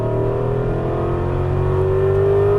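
Aston Martin V8 Vantage accelerating on a racetrack at Las Vegas, heard from inside the car: a loud, steady engine drone with the pitch climbing gradually as it pulls.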